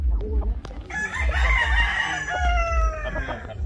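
A Gilmore gamefowl rooster crows once on a gamefarm, a loud, close, drawn-out call rising and holding for a few seconds over a low rumble of background noise.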